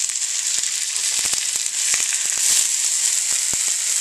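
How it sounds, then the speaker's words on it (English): A sesame-crusted tuna steak searing in hot sesame oil, a loud, close, continuous sizzle with scattered pops and crackles throughout. "we're going to sear our tuna steak for about 30 seconds on each side, just to get that nice crust"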